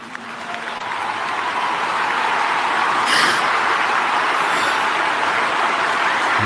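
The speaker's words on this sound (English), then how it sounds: "People standing to their feet in applause for something that is good." A standing audience at a Sunday morning church broadcast gives loud, sustained applause, a thick, continuous roar of clapping that swells and holds with no talking over it.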